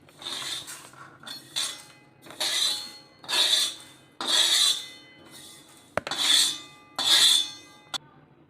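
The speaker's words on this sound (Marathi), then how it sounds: "आता आपल्याला थोडंसं तीळ पण भाजून घ्यायचं आहे।" Sesame seeds are dry-roasted in a pan for chutney, giving a series of rhythmic scraping, rattling sweeps about once a second as the seeds are stirred, with a few sharp clinks of the spoon against the metal and no talking.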